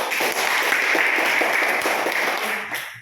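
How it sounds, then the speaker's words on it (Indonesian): A classroom of high school students applauds steadily for a classmate, a dense, even patter of clapping that carries on for a few seconds before fading out. "Kita beri aplaus buat Hosea dulu."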